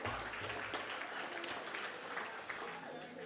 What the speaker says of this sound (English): let's give our panellists and moderator one more round of applause.